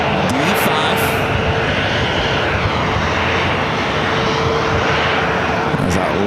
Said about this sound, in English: Coming in from Atlanta, Georgia, flight 3401 at 737-800, pulling into gate D5.